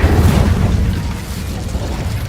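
Incendio fire spell cast in the Hogwarts Legacy video game, a loud rumbling fiery burst with a deep booming low end that stays strong and then slowly fades over a couple of seconds.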